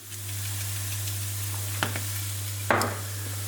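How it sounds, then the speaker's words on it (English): Onion and garlic sauté in a pan, a steady soft sizzle with a low hum underneath and two brief scraping stirs near the end, close up and without speech. "we're gonna saute the onion with the garlic for a few minutes before adding the mushrooms"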